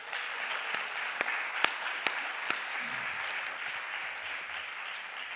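A congregation at a Friday night prayer meeting applauds an elder coming forward to give testimony: soft, steady clapping from a church crowd, fairly distant, with a few sharper individual claps standing out near the start.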